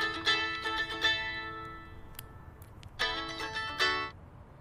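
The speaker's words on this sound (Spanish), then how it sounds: "Llamada de Burku." A phone ringtone sounds for an incoming call in a Spanish-dubbed drama scene, with bright melodic tone bursts repeating in two clusters and a short pause between them.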